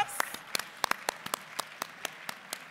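Sparse clapping from a few people in an audience at a CIAA event, distinct individual claps in an uneven rhythm, fairly close and moderately quiet, with some speech mixed in.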